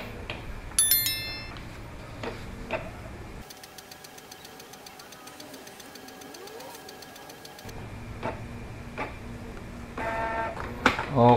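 A Canon G-series inkjet printer making a copy whirs and clicks mechanically, a steady buzzing stretch in the middle framed by rattling and ticking, with a person speaking briefly nearby.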